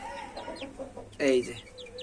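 A hen clucks as her young cockerel chick peeps nearby, with soft repeated chirps and one louder, close cluck burst midway.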